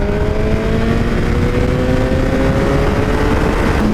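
A Suzuki GSX-R1000R sportbike pulls hard in fourth gear from around 5,000 rpm, its engine note rising steadily and loud under heavy wind roar throughout.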